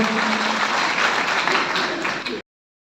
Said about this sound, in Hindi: एक बार जोरदार ताली हो जाए इनके स्वागत के लिए।